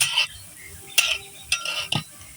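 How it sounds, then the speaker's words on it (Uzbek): Onions frying for Uzbek plov are stirred in a pot, with a few distinct scraping clatters of the utensil against the metal over a soft, steady sizzle, close by. "Piyozimiz juda chiroyli qovurilyapti."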